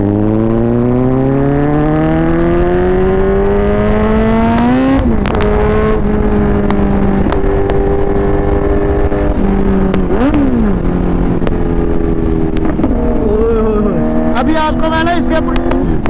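A Yamaha R1 sport motorcycle being revved hard, the engine pitch climbing steadily before dropping and rising again in repeated sharp blips, loud and close, with a voice talking over it.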